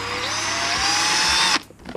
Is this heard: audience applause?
no